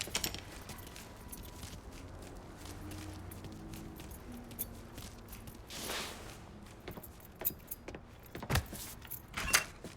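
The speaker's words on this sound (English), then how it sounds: "Hey, man, grab those keys." Keys jangle in the video game Mafia 3 with light, scattered metallic clinks over a faint low engine-like hum, growing busier and louder toward the end alongside soft thumps.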